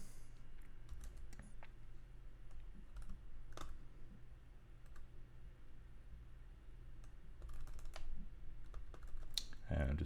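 Typing on a computer keyboard while a web page footer is being coded, with steady close key clicks over a low background hum and a few louder taps, and no talking.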